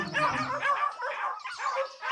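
Dogs barking and yelping in a fierce fight with a wolf in the woods, staged as an audiobook effect; rapid, overlapping barks and whines fill the stretch continuously, close and moderately loud.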